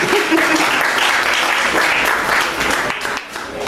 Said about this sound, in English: Can you clap hands for him this time?